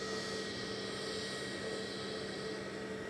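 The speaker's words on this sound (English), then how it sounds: "EasyJet heading off to Lisbon next" An EasyJet airliner bound for Lisbon takes off from Manchester Airport, its jet engines a continuous even roar with a faint tonal whine, heard from some distance, with no one speaking.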